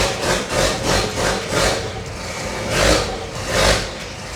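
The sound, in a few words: car brake vacuum pump running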